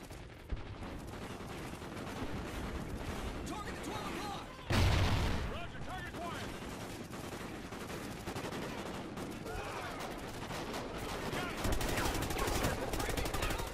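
Rapid automatic gunfire from a weapon in the Call of Duty Ghosts campaign keeps a dense, continuous crackle going throughout, with one louder blast partway in and someone talking over the shooting.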